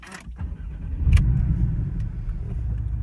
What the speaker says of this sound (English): Hear that? That's just at idle.